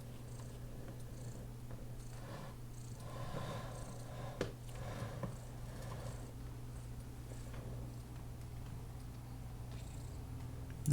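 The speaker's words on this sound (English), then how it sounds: "she's purring pretty loud" A cat purring loudly up close, a steady low rumbling throb that runs continuously, with a couple of faint bumps partway through.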